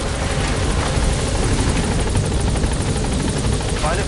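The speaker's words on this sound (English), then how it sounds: "the chopper's touching down" A helicopter touches down in the video game Metal Gear Solid, a loud, continuous whirring rotor roar that fills the whole stretch steadily.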